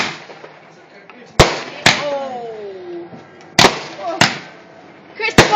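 Fireworks burst at night in a run of sharp, loud bangs, about five cracks spaced irregularly over a few seconds, with people talking quietly between them.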